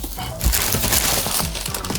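Packing paper crinkling and rustling as a parcel of microphone gear is unpacked, close and busy bursts of crackly scrunching with a soft thump near the start.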